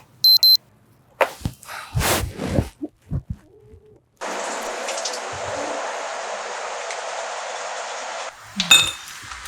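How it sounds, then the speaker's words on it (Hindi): An alarm clock rings in a house in the early morning, a steady, bright, continuous ringing that lasts about four seconds and then stops. Clinks and household clatter come before it. "ये अलार्म तो बंद कर दिया करो ना"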